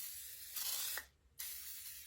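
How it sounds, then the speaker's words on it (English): Cleaner sprays in a short close hiss onto a Dollar Tree farmhouse candle holder, with a brief pause before a second spray, alone and fairly faint. "And all I do is spray this on here."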